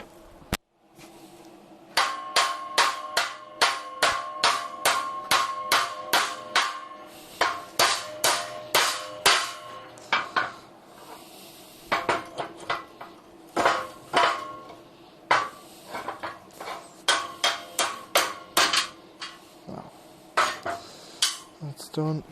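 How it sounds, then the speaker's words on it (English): A hammer knocking a welded metal model gate, ringing metallic strikes in quick steady runs, close and loud, each blow leaving a bright clang with pauses between the runs. "We'll get a hammer."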